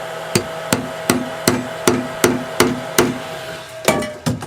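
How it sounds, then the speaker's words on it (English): A nail being hammered into a wooden baseboard: about ten sharp, close, ringing strikes in a steady rhythm, with a short pause before the last two blows. "let's go ahead and nail this into the baseboard towards the back"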